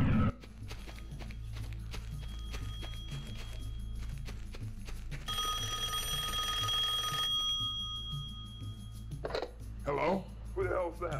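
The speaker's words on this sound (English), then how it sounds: "Ooh, a phone." A telephone rings in the video game Serious Sam The Second Encounter, played in VR: a bright, repeated electronic ringing in bursts midway, over low game ambience and music, with some clicks and brief voice sounds near the end.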